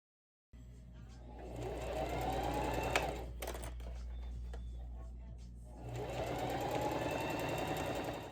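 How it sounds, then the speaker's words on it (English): A sewing machine topstitches contrasting tan thread along the seams of a thrifted patchwork bucket hat. It whirs in two steady runs with a short pause between them, close and clear, with no talking. "I'm going to top stitch the contrasting tan thread along both sides of each seam"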